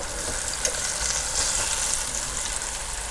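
Chicken fried bacon sizzling and frying in hot oil, a steady close crackle and hiss with small pops, no voices.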